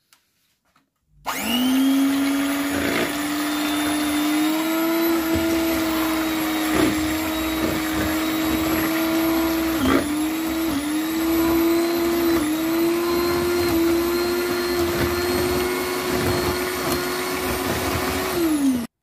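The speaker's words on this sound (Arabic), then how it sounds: "غادي نديرو براني مع البيض، قبصه د الملحه، غادي نطربوهم بالطرار" Electric hand mixer whipping eggs with a pinch of salt for a sponge cake, a steady loud motor whine that starts abruptly after a short silence and runs continuously, with slight pitch wobbles as the beaters move.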